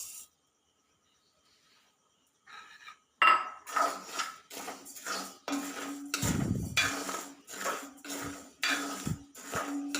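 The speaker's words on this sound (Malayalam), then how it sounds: "ഒരു ഇരുമ്പ് ചീനച്ചട്ടിയാണ് വെച്ച് കൊടുത്തിട്ടുള്ളത്. നമുക്ക് ആദ്യം ഞവരരി വറുത്തെടുക്കാം." Navara rice being roasted in a heavy-bottomed iron pan on a stove, with rapid, repeated scraping and clinking of a utensil against the metal after a quiet start.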